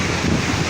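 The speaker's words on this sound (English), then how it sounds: "So this is the Pacific Ocean, and I'm in San Diego" Pacific Ocean surf at the southwesternmost point of the US in San Diego, beside the Mexican border fence: a steady, close, broad wash of breaking waves roughened by wind buffeting the microphone, with no voices.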